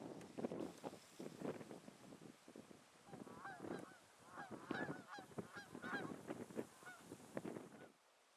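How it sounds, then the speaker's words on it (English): Canada geese and brant honk and call together at a wetland wildlife refuge, a busy overlapping chorus of faint-to-moderate honks and gabbling notes with wind noise behind. "Canada geese and brant together."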